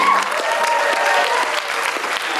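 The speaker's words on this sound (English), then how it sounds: "give her a round of applause" Steady crowd applause fills a festival performance space for poet Kat Evanstein, many hands clapping in an even roar, with a faint voice briefly over the start.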